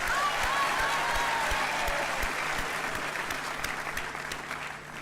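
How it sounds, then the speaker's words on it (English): Audience at a university graduation ceremony breaking into steady applause, a dense wash of clapping that holds for several seconds and slowly thins toward the end. "can we give UJ a round of applause?"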